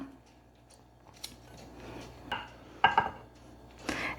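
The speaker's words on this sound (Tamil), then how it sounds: "பச்சை மிளகாவையும் கட் பண்ணிக்கலாம்." Green chillies being cut on a kitchen board give a few soft, scattered knife taps and crisp snips, quiet and close, with faint room noise between them.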